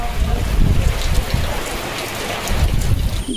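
Steady rain falling outdoors in a remote Sundarbans village, a dense continuous patter with heavier low rumbling swells, loud and close, with no talk.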